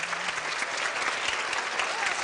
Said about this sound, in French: Applaudissez, applaudissez pour la grande médium Maureen Hancock.